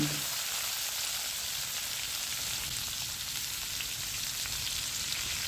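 Potato pieces frying in a pan of oil for a restaurant-style broiler chicken dish. A steady, fairly quiet hiss continues evenly throughout with no voices.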